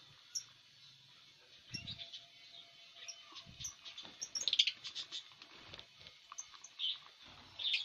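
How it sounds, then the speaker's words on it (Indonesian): Pet lovebirds in a breeding setup chirping in short, scattered high tweets, some closer and louder, over a quiet background with faint patter. "Semangat burungnya nih semua."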